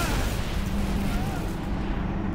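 An explosion in the Halo: Reach game gives a loud, dense rumbling roar with a rough, gunfire-like texture that stays heavy across the short span.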